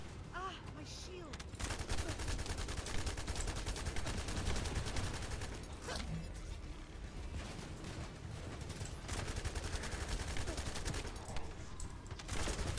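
Rapid gunfire keeps up throughout a boss fight in the video game The First Descendant, played on hard mode, with snipers firing, a dense continuous fusillade of shots mixed with game effects.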